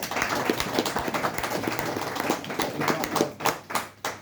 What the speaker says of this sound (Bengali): হাততালি।